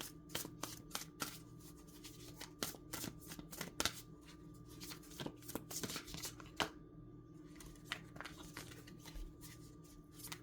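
Tarot cards being shuffled in a series of quick crisp riffles and slaps, close and fairly quiet, with no talking.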